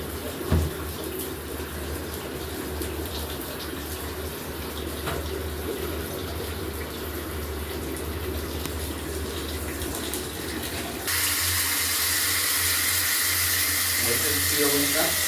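Water runs from a repaired bathroom shower mixer as a steady broadband rush, growing louder and brighter partway through, with faint talk under it.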